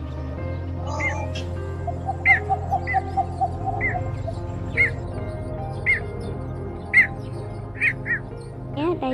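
Recorded migratory bird calls played for bird trapping: bright, short chirps repeat at a steady pace of about one every second, over a low droning hum, with a thinner, brief trill early on.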